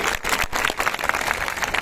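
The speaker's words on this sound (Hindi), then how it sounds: "जोरदार ताली बजाकर अपने नेता का अभिवादन करिए।" A crowd at a political event bursts into dense, continuous applause, close and loud throughout the short stretch.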